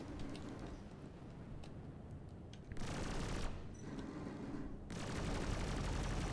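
Gunfire in the Star Citizen space game, with ship guns firing during a dogfight: dense, continuous bursts of shots that rise and fall in waves, a steady loud barrage with no voices.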